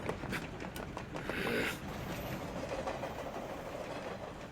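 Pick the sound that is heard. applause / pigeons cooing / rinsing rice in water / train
train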